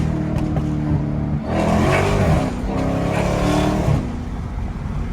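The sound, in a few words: Dodge Hellcat downshifting and accelerating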